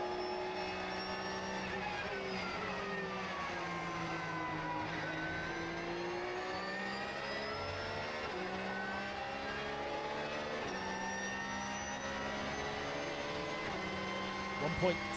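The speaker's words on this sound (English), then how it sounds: "And now we ride on board with Banksy." Onboard engine of a race car during the Japan Cup race at Fuji, a steady droning whine that climbs and falls with gear changes, with commentary talking over it throughout.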